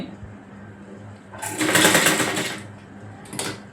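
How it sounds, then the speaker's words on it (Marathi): Sewing machine stitching over the gathered pleats of a five-year-old girl's frock, a quiet idle hum swelling into a loud continuous run of stitching for about a second, then easing off with a brief final burst. "पुन्हा चुन्यांवर शिलाई मारायला घ्यायची"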